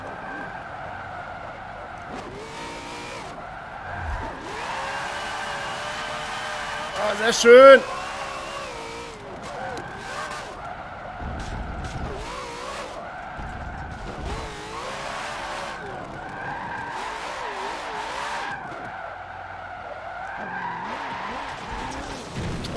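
A drift car in Forza Motorsport 7 slides through long, wavering tire squeals over a loud engine, with a sharp impact midway. Someone talks over it throughout.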